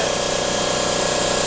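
A spray gun lays primer onto a car body panel, producing a steady, close, unbroken hiss with a faint mechanical hum underneath and no speech.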